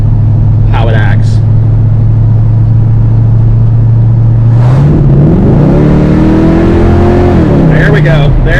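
A 1969 Hurst Olds engine idles with a loud, steady low rumble, then revs up under wide open throttle, climbing and holding a higher pitch before easing back down, close to the car.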